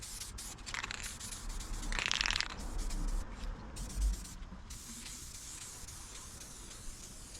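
Spray paint coats car dashboard parts from a 1992 Roadmaster, short hissing bursts of the aerosol can at close range, one longer spray in the middle, with quiet handling sounds between.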